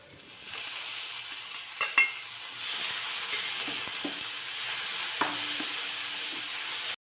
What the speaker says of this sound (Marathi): अगदी काही सेकंदासाठी हे परतून घ्यायचं आहे आणि लगेचच त्यामध्ये एक चिरलेला टोमॅटो मी घालते